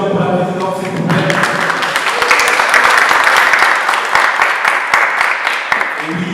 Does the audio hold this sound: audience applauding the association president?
yes